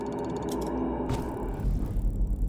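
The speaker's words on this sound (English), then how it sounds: "a device that manipulates air pressure to disperse microbial particles" Air-pressure disinfectant sprayer from Pathologic 3 charging up, a mechanical rattling build with a hissing burst midway, then lower thumping pulses as pressure releases.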